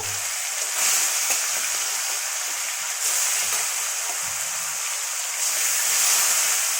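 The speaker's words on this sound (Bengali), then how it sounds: "মাছটা আমি লাল লাল করে ভেজে নেব" Turmeric- and salt-coated fish fries in a wok with a little oil, giving a continuous, even sizzle and hiss with small bubbling pops, steady and fairly close.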